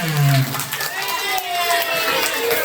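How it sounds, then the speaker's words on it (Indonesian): An audience at a school religious celebration in a primary school claps and cheers for a student, a dense, steady wash of applause with excited children's shouts over it. "Tepuk tangan untuk Renan."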